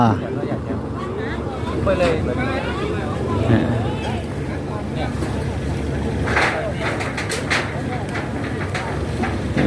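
Boat engines drone as private boats and passenger boats pull in at a riverside market in southern Laos, a steady motor hum with a voice talking over it and background chatter.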